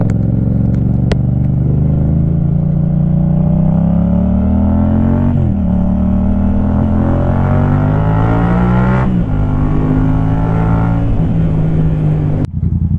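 Motorcycle fitted with a Black Widow exhaust revving loudly up close, engine pitch climbing and falling across repeated throttle pulls and gear changes over about thirteen seconds, with no voices.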